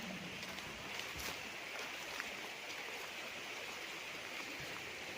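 A creek runs through a farm lot in Liliw, Laguna, with a soft, steady rush of flowing water throughout and faint brief knocks, heard alone and fairly quiet.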